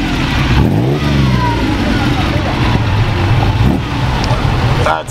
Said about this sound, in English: Got the original exhaust on. 308.